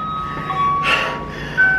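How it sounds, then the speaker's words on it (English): An ice cream truck jingle plays outdoors during a skating session, a thin, faint melody of steady electronic tones drifting in from a distance over light background noise. "an ice cream truck?"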